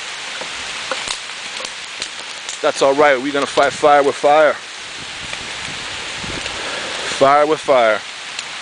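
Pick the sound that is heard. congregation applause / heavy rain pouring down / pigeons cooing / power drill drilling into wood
heavy rain pouring down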